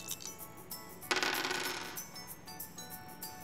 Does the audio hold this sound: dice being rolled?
yes